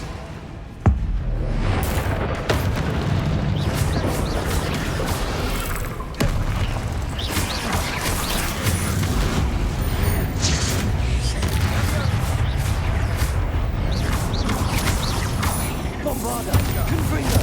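Spell blasts boom and crash in a Hogwarts Legacy battle, dense bursts of impacts and rumbling clatter layered over continuous game score and combat noise with voices shouting across the fight.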